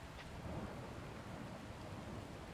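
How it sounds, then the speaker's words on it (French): Steady rain falls in the Laysara Summit Kingdom video game, a dense, even hiss of rainfall with a low rumbling undertone, continuous and fairly loud throughout with no talking. "Ah oui, il se met à pleuvoir."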